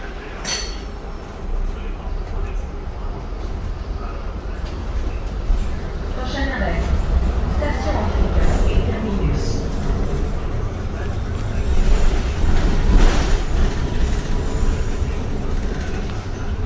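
Inside a moving Nova Bus LFSe electric city bus on the STM 36 route, a low steady hum and rumble with occasional rattles and clinks as it rolls along; a person talks intermittently.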